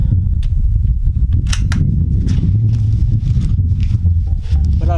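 A few sharp, brief shot cracks aimed at a steel target plate cut through a constant fan-like hum.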